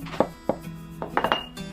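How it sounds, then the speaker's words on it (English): Garlic being rough-chopped with a knife on a board, a handful of sharp, separate taps at an irregular rhythm, close and fairly quiet with no talk. "Gather them and cut them again to make a rough chop."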